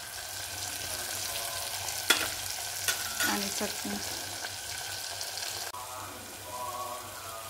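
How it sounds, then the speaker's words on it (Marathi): Spices sizzle in hot oil for a dal tempering: turmeric and chili powder crackle steadily in a pan while a spoon stirs with a few sharp metallic scrapes. A voice speaks briefly. "चटणी तळायला टाकलेली आहे, थोडा वेळ तळू देऊ"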